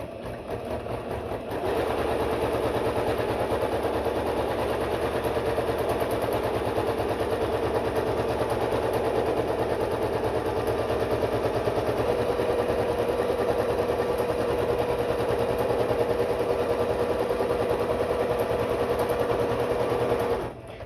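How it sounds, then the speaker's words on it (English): An ordinary home sewing machine stitches ribbon onto a skirt, starting with a brief lighter burst and then running fast in a continuous, rapid mechanical chatter up close. The machine stops at the end, and no one talks. "The one I have at home is just a normal sewing machine"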